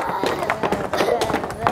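Children stamping their feet on the floor at a kids' church session, a quick run of rough thumps and scuffs mixed with excited young voices, close and fairly loud for under two seconds.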